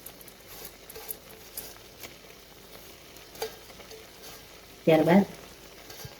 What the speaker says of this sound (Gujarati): ચોખાને આપણે સારી રીતે ચલાવી લઈશું